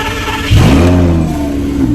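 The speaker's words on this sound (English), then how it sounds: "A little early morning cold start action." A Lamborghini engine cold-starts early in the morning, firing up with a sudden loud bark that settles into a high, rough revving idle, close by.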